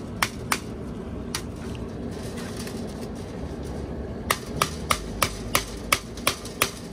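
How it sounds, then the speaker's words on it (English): Hammer blows drive nails into a wooden frilled dragon enclosure during a makeover: a couple of sparse strikes, then a steady run of about ten sharp, close, evenly spaced hits. "let's start nailing them in"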